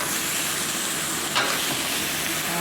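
Green vegetables stir-fry in a pan over high heat, giving a steady broad hiss and sizzle with one brief louder flare of spattering midway, and no talking.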